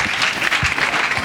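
A church congregation claps at a regional convention in Daoukro, a short, dense burst of applause from a large crowd, loud and close throughout.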